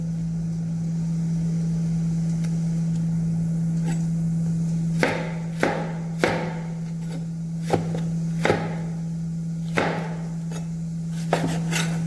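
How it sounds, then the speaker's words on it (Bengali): A knife roughly chops fresh tomatoes on a board in a series of sharp, irregular taps, about eight in total, over a constant low electrical hum in a quiet kitchen. "সো এইভাবে রাফলি কেটে নেবেন টমেটোগুলো।"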